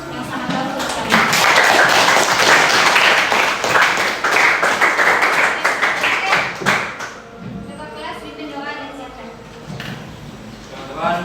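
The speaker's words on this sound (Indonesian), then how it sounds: "Hari ini ibu kasih aplaus yang sangat bagus sekali." A classroom full of students bursts into loud, dense clapping that goes on for several seconds and then fades out. A teacher speaks over the tail end of it.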